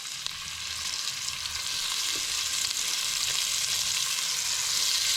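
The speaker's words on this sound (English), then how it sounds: "now in that bacon and beef fat there, I'm just going to give those a little fry." Large chunks of liver frying in rendered bacon and beef fat, a steady close hiss and crackle of sizzling that holds even throughout, without any talking.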